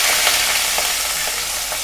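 Onion, garlic and curry leaves sauté in hot oil with asafoetida for a banana-flower gravy, giving a steady, close, fairly loud sizzle broken by soft scrapes of a stirring spoon.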